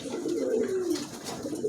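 Pigeons cooing nearby, soft low rolling coos repeating over a quiet background.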